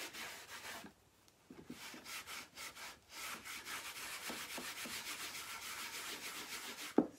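Dark wax being rubbed by hand over a chalk-paste finish, a steady scrubbing rasp in repeated strokes, close and fairly quiet, with a brief pause near the start and no talking.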